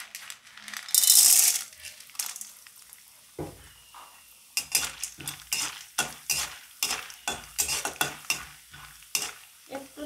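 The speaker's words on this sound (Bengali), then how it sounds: "এবার এর থেকে কিছুটা পরিমাণে ভুট্টার দানা দিয়ে দেব।" Corn kernels tipped into hot oil in a kadai for stovetop popcorn make a short, loud sizzle, followed by a run of rhythmic scraping and rattling as they are stirred in the pan.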